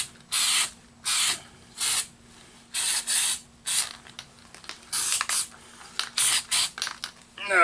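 A spray can coats a welded metal dustpan in a string of short, sharp hissing bursts, each about half a second long and separated by brief pauses, close and fairly loud with no talk over them.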